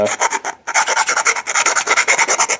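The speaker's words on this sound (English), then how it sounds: "we're of course going to finish it with a half moon bastard file here" A half moon bastard file rasps along the inside edge of a hole in a homemade gasket, a close, steady run of quick back-and-forth strokes with one brief pause.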